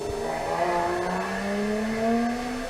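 A racing car at the Leyburn hill sprint, 2022, gives a strong engine note whose pitch climbs steadily as it accelerates hard and pulls away.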